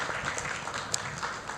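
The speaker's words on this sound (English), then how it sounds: "Let's give applause for Miss Ari." Audience applause after a presenter's talk at a joint policy session, a steady wash of many hands clapping at moderate level across a conference hall.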